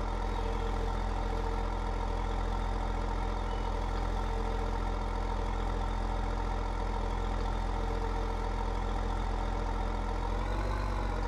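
A tractor engine idles steadily in a farming video game, producing a constant low mechanical drone with no talk, shifting slightly at the very end.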